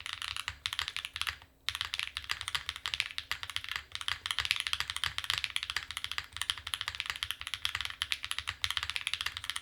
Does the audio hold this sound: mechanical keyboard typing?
yes